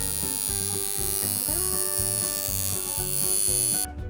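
Maker's Mark tattoo machine running with a steady electric buzz in a repeating pulsing pattern, close and fairly loud, cutting off abruptly at the end.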